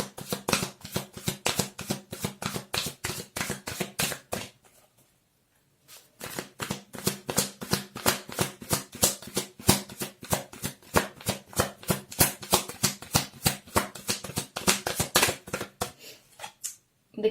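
Tarot cards are shuffled by hand in quick, crisp riffling bursts, close and clear, pausing for about a second midway before resuming in a steady rapid rhythm with no voices.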